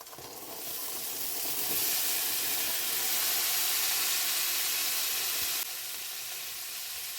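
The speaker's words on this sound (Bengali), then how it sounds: "এবারে দিয়ে দেবো সেদ্ধ করে রাখা আলু আর কাবলি ছোলা।" Boiled potatoes and chickpeas drop into a pan of cooked masala, setting off a loud, sustained sizzle that swells, holds steady and then eases slightly, with no talking.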